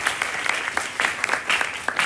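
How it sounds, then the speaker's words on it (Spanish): A modest audience at a literary talk with a writer applauds, the claps sparse enough that single sharp hand strikes stand out over a softer wash of clapping. "Así que vamos a darle un aplauso al público"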